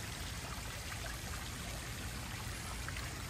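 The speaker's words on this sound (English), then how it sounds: "I set up the air diffuser with all the bubbles all the way back here" Steady bubbling and gurgling water from an air pump diffuser in a backyard koi pond, a continuous broadband wash with no pauses, fairly quiet and even throughout.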